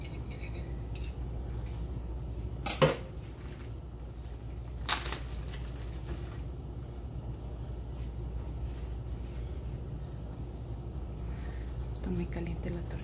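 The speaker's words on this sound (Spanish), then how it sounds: "Entonces vamos a cortarle aquí un pedacito." A knife cuts into a bacon-wrapped ground meat roll with a few faint, scattered scrapes and taps against a quiet kitchen background.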